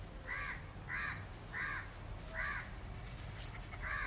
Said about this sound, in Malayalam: ഒരു കാക്ക ഇരിപ്പുണ്ടായിരുന്നു.